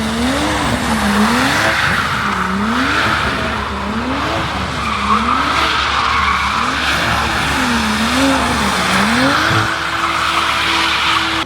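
A purple BMW M240i drifts at an informal car meet, its tires squealing in long continuous skids while the engine revs rise and fall in a repeating wave, loud and close, with no talk.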